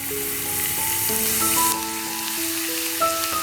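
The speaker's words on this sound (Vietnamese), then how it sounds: "Tiếp theo mình dùng một nửa số tỏi băm để chiên làm tỏi phi." Minced garlic fries in oil for crispy fried garlic, giving a continuous close sizzle under a melody of soft instrumental music, with no talking.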